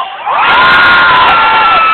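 A packed concert audience at the Malolos Sports Complex bursts into loud, sustained shouting and cheering, a high-pitched roar of many voices that swells after a brief quieter moment and holds steady to the end.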